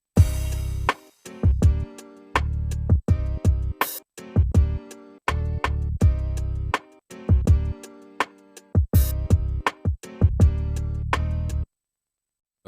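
A broken-down SP-404 MK2 beat, its vocal sample removed, plays punchy drum hits and pitched chord stabs in a chopped, stop-start rhythm with brief gaps and occasional bright crashes, loud and clean before falling silent near the end.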